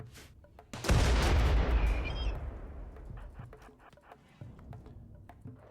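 A hand grenade in RimWorld explodes with a sudden loud boom and a long rumbling decay, with faint scattered pops and clicks of combat afterward.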